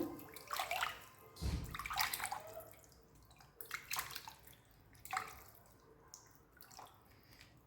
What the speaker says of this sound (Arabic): نزيد نعاود لها المره الثانيه نغسلها